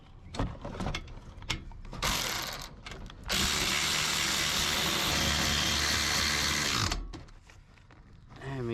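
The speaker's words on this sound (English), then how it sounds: "Now we gotta tighten those down, tighten the axle nut down." Power tool tightening an axle nut on a 2020 RAM 1500 during a 6-inch Rough Country lift kit install in a driveway: a few short ratcheting bursts, then one loud continuous whir lasting several seconds, nearby.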